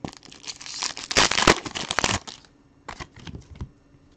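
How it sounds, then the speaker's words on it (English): A stack of football trading cards, mostly advertising cards, is riffled and shuffled by hand close up, a crisp papery flicking that bursts loudly, stops, then resumes in softer quick flips. "just shuffling through to show you these are all of the advertising cards"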